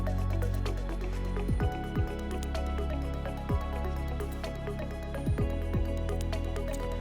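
Water from a garden hose runs into a carbon filter tank, a steady wet filling sound with scattered drips and gurgles throughout, close and moderately loud.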